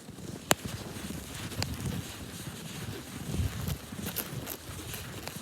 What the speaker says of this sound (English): It's windy, snowing.